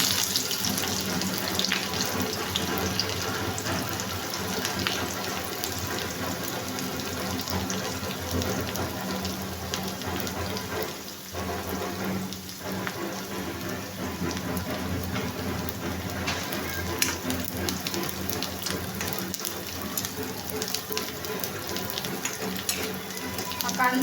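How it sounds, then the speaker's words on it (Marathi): Chopped onion frying in hot oil in a pan while making zunka pithla, a steady dense sizzle and crackle that runs unbroken and fairly loud throughout. "आता मी हा कांदा ह्याच्यामध्ये भाजून घेत आहे।"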